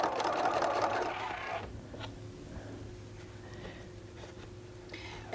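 A short burst of sewing machine stitching back-stitches a pouch seam, close and fairly loud for under two seconds. A quieter, steady hum follows.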